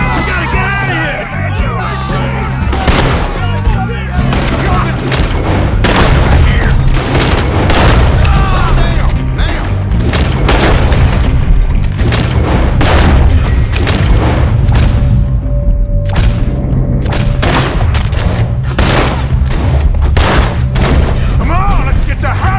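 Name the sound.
gunfire in a shootout, from the video game Red Dead Redemption 2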